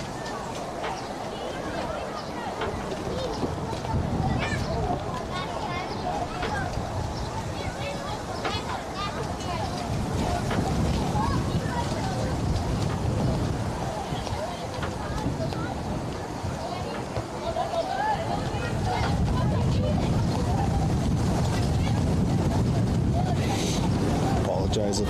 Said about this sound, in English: it is extremely windy out today and actually pretty darn cold